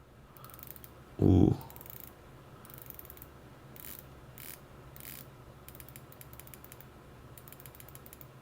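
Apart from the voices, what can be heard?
Seiko Prospex SLA053 dive watch bezel being rotated, clicking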